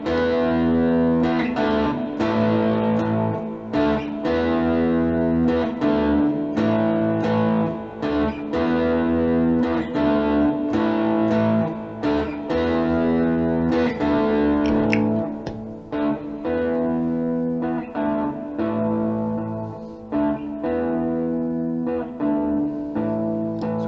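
Guitar loop played back on a Boss RC-1 loop station, a dense continuous layer of strummed, effected chords repeating with steady rhythm and reverb, loud and close with no voice over it.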